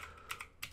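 Several quick clicking keystrokes on a computer keyboard as a web address is typed, close and fairly quiet.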